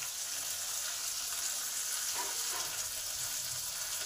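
Tomato and ground coriander, cumin, chilli and turmeric frying in a pan for an egg curry with potato, soybean and kohlrabi, giving a steady, close, continuous sizzle with faint stirring scrapes and no voices.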